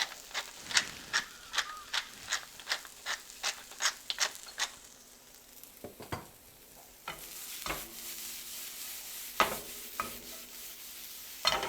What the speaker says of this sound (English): We'll add our onions, get them sweating.